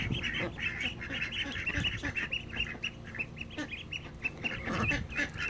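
Ducklings and chicks in a farmyard peep in rapid, overlapping high chirps, with a few honk-like calls mixed in, close by and fairly soft.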